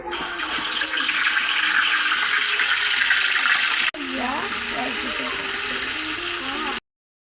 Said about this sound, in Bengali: তাওয়াটা গরম হয়ে গেছে, এবার আমরা মাংসটা দিয়ে দেবো।